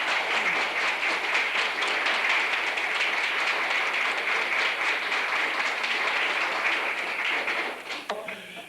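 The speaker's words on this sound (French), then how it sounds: "C'est peut-être des gens à applaudir, ça" Sustained audience applause fills an evening community gathering in Girardville held for community television, a dense steady clapping that holds loud and even for about eight seconds before thinning out at the end.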